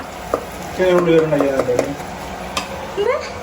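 Beef being added to a pan of onion gravy seasoned with chili and coriander powder and stirred, with scraping spoon strokes and soft sizzling under a voice talking.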